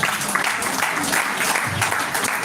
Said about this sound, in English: A round of applause, sir.